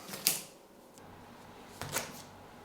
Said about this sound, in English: what I have is some packing tape, and I'm just going to rip off a few bits of this